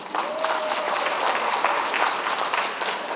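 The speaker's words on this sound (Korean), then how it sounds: "박수 한 번 보내고 싶습니다" Audience applause rolls through the hall at the opening ceremony of the 2023 Gwangju Able Art Fair, an even, moderately loud wash of many hands clapping for a few seconds.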